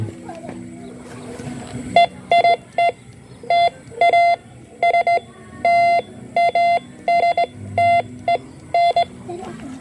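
A sensitive metal detector gives repeated short electronic beeps in quick bursts, loud and close, with a voice talking in the background.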